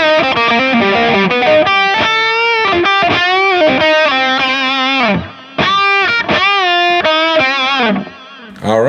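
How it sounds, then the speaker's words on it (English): Electric guitar played through the Moon amp model on a Line 6 POD GO, distorted chords and riffs ringing loud with a faint delay echo trailing notes, a couple of brief gaps between phrases. "now it's more faint, more of like a little faint echo"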